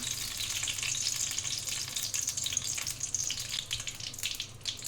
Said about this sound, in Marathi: पातेला गरम झालं यामध्ये आपण तूप टाकूया